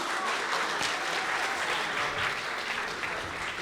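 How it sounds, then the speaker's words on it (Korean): Loud, sustained applause from a fight-event crowd cheering the winning fighter, a dense continuous roar of clapping that stays even and close throughout. "화려한 꽃을 피운 찐홍이 선수께 큰 박수 부탁드리겠습니다."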